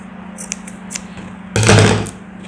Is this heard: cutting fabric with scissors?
yes